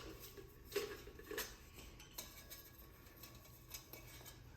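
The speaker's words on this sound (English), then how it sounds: "So I just have my pot, put that in the bag." A metal camping cook pot is handled and packed into a stuff sack, giving a few light clinks and rattles around the one- and 1.4-second marks over quiet rustling, close and fairly soft.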